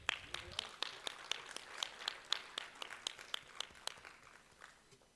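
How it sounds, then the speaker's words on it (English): Sparse, quiet clapping at a corporate sustainability conclave, a handful of distinct hand claps in an uneven rhythm, faint and thinning out toward the end. "A big round of applause, please."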